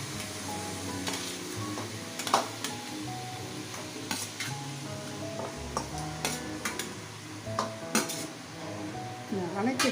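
Mutton sautéing in a pan for gravy, with clinks of a spoon against the pot and a low steady sizzle, plus scattered sharp scraping and stirring knocks throughout.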